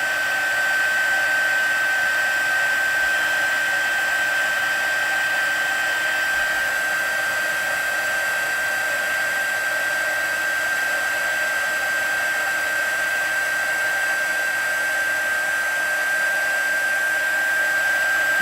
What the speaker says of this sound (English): I've got a heat tool, and we're going to heat up